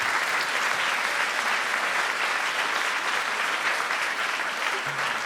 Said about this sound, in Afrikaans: gee vir hulle lekker hande klap